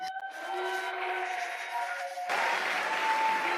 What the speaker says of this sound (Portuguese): Uma salva de palmas para o Napoli